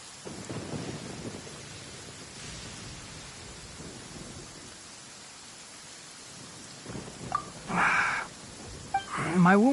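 A thunderstorm in the video game Genshin Impact brings steady rain and low rumbles of thunder, with a sharper crackling lightning strike near the end. Faint game sounds mix in underneath.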